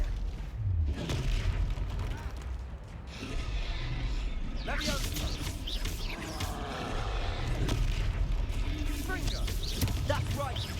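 Explosive blasts of the Confringo fire spell in the Hogwarts Legacy video game during a fight in Hogsmeade, several booms and crashing impacts mixed with combat noise while voices shout over the action.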